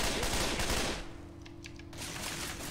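Video game weapon fire comes as a dense, rapid fusillade of loud bursts, then a short lull, then more sustained firing, with no voices over it.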